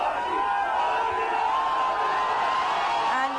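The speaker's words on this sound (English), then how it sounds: "here we have the crowd there going berserk" A large crowd at Mandi House metro station in Delhi cheers and chants to welcome the Prime Minister, a loud, sustained mass of shouting and rising chant voices from a moderate distance.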